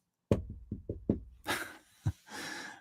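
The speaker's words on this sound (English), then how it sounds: "Knock wood," Five sharp knocks on wood, loud and close, come in an uneven rhythm, followed by breathy, noisy sounds.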